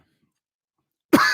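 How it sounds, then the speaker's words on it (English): A single close cough from a man with a scratchy throat bursts out abruptly after a second of silence. "I do apologize for the coughs."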